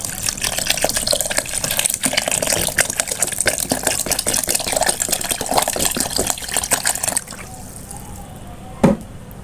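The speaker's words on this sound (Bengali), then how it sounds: "তারপরে পরিমাণ মতো ঠান্ডা পানি দিয়ে দেব।" Cold water runs and splashes steadily into a blender mix of plain yogurt and mint leaves for a raw-mango sharbat, a continuous close gushing that stops abruptly, followed by a quieter tail and one short knock.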